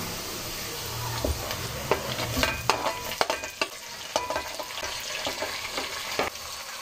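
Tomato, ginger-garlic paste and green chillies frying with lightly browned onions in a pan, a steady sizzle broken by repeated scrapes and clinks of stirring, with no talking.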